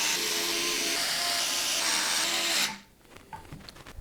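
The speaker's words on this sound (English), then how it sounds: "we can go ahead and secure the fans to the bracket using the standard fan screws" PC case fans being fastened to a side fan bracket of a Phanteks NV7 case with standard fan screws: a steady, close whirring tool drone for under three seconds that cuts off abruptly, followed by faint scattered clicks and handling noises.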